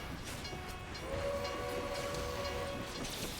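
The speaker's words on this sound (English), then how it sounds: "Watch for the train." A train in a Final Fantasy XIV PvP match rumbles past with a long steady whistle or horn tone over the rolling rail noise, moderately loud and sustained through most of the moment.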